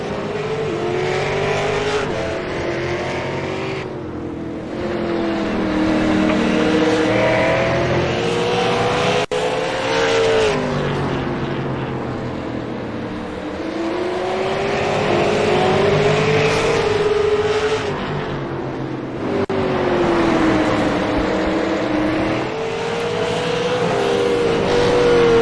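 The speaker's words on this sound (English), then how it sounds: "As you can hear, these cars are loud and fast." Super late model race cars lap the Southern National track in a continuous loud roar, engines rising and falling in pitch as they accelerate and sweep past in repeated waves, with no talking.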